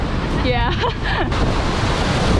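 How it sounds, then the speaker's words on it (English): Rough sea surf rolling in at Cathedral Cove beach in New Zealand, a continuous broadband wash with wind buffeting the microphone, while a person speaks briefly over it. "But the sea is pretty rough."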